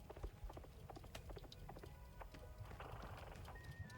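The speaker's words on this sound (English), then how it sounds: "Hello, horse radio." Horse hooves clip-clop in a quick, uneven rhythm from the horse radio in the cozy video game Wanderstop, with light musical tones drifting underneath.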